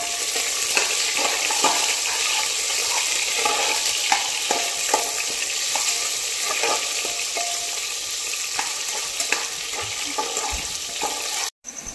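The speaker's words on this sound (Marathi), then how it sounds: "त्यामध्ये एक कांदा उभा कट केलेला आता हे व्यवस्थित मिक्स करून घेऊया" Sliced onion frying with cumin seeds in hot oil for a mutton trotter curry, a loud, continuous bright sizzle with scattered spatula scrapes as the mixture is stirred.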